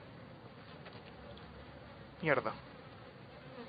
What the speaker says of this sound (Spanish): Escucho moscas, escucho de todo.